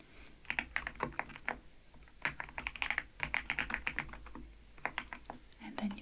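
Computer keyboard typing, heard close up and soft, comes as quick runs of light clicking key taps in bursts with short pauses between.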